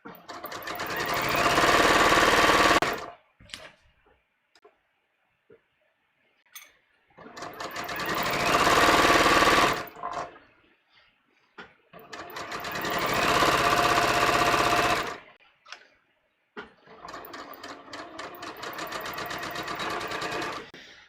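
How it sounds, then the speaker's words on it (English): A sewing machine stitches a collar seam at nearly a half-inch allowance in four long runs of steady rapid stitching, each a few seconds, separated by short pauses with small clicks. "now I'm sewing at almost a 1/2 inch here because I had a larger seam allowance"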